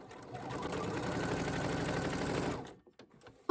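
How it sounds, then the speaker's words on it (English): A sewing machine stitches scrap-fabric patchwork pieces together for a quilted pouch, running in one steady, close whirring burst for over two seconds before stopping, followed by faint handling noises. "now I can take my individual pieces and just sew them on"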